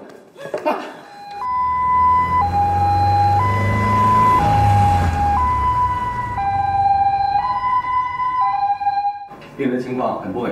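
An ambulance siren wails loud and close in a steady two-tone alternation for about eight seconds, with brief rustling and movement sounds just before and after it.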